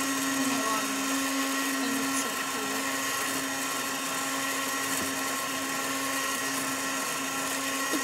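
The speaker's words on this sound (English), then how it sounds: "I'm microwaving the chicken." A toy microwave runs while heating chicken, giving a steady, unbroken electric hum with a slight whirring edge that holds at a constant level for the whole stretch.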